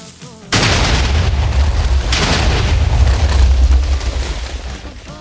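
A Minecraft TNT explosion beside a cobblestone farm: a sudden loud boom followed by a second blast, then a long rumbling roar that slowly fades.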